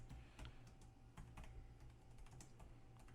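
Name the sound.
typing on a computer keyboard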